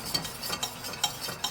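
Flour roux stirred and cooked in a pan for mac and cheese, a soft rhythmic scraping of a utensil with faint sizzling underneath, quiet and close, with no talking.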